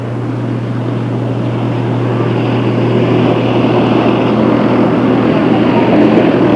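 Race cars lapping the Delta Speedway oval roar past in a steady, loud, continuous drone. The engine note holds a sustained low hum with no clear break, and there is no audible talk.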